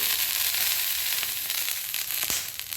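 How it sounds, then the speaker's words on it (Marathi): An uttapam topped with onion and coriander fries in oil on a pan, giving a steady hissing sizzle with a few faint crackles and one spatula tap, and no voices. "असे दुसऱ्या साईडने भाजून घ्यावे"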